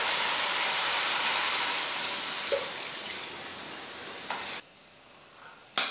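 Beef stock poured into a red chile mix with meat, seasonings and red chili powder in a pot, a steady close hiss of sizzling with light stirring clicks that suddenly drops away near the end.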